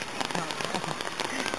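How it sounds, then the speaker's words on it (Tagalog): Heavy rain pattering densely on a surface in Mindoro, a close, busy crackle of drops in a short burst, with speech faintly mixed in. "Malakas ang ulan."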